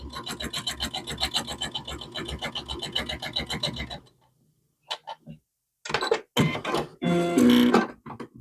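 A sewing machine stitches binding onto an owl-pattern quilt in a steady, rapid mechanical run for about four seconds. A pause follows, then scattered handling noises and rustling of fabric.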